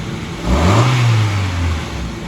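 A car engine revs once while its coolant is being bled, a close rising and falling roar over a steady idle rumble.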